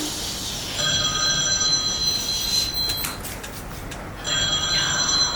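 A telephone bell rings in two bursts with a short pause between, a bright, trilling ring heard fairly close against a quiet room background.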